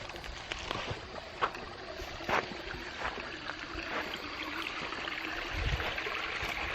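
A small creek flows in a steady, noisy wash along a hiking trail, with a few splashes and knocks close by and no talk.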